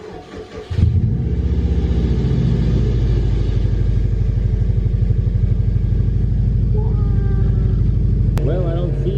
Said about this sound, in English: gonna crack the garage and give her a start up